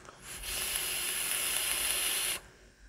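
A puff is drawn on a SMOK Nord 5 vape device, producing a steady close hiss and crackle that runs for about two seconds and then cuts off abruptly.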